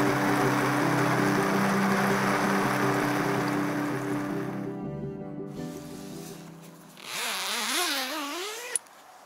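Sea waves washing in at a Mediterranean shore on a nomadic cycling trip through Italy, a steady broadband surf wash that fades out partway through, then a separate wavering tonal sound rises near the end.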